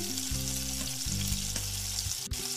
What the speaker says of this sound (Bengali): এবার ভালোভাবে মশলাটা একটু কষিয়ে নিয়েছি।